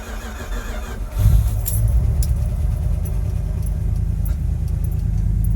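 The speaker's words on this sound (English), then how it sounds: "Let's do a cold start. And I mean, this is a cold start." A 1973 Dodge D100 truck, left sitting cold for a week on a chilly day, cranks briefly and then catches, settling into a steady, loud, low rumbling idle close by with no talking.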